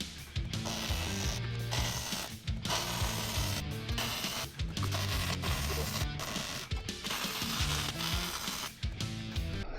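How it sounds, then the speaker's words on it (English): Steel plate is welded onto an off-road wrecker with a Cummins engine, a loud continuous buzzing crackle in sustained bursts separated by brief pauses, close up and free of talk. "So let's weld it on."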